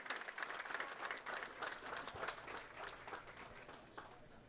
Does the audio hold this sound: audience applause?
yes